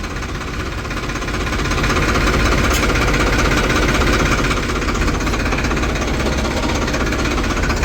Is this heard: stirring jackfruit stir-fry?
no